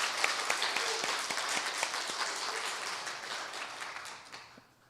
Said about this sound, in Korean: 박수 한번 치도록 하겠습니다.